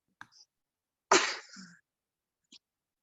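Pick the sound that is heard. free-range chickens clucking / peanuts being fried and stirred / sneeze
sneeze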